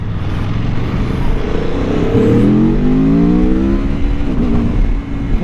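A 2023 Aprilia Tuono V4 Factory motorcycle accelerates hard, its engine roaring loudly up through the revs with quick shifts, the pitch climbing and dropping again over steady wind noise.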